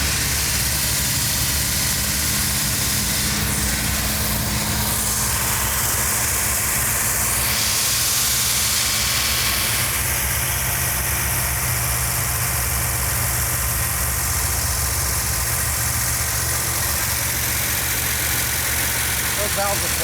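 Car engine idling with noisy valves after a timing adjustment, a constant loud rumble with a hissing wash and ticking valve chatter running steadily throughout, with no pauses.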